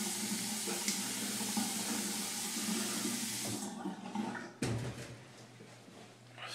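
Running cold water splashes steadily at a sink for a few seconds, then shifts to softer, intermittent splashing as hands scoop water to rinse a face.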